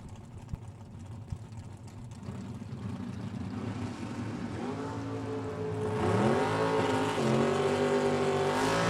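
Corvette drag racing car launching down the strip at a drag race, a distant roaring engine rising in pitch through rapid gear changes as it accelerates and grows louder over a steady crowd and track ambience.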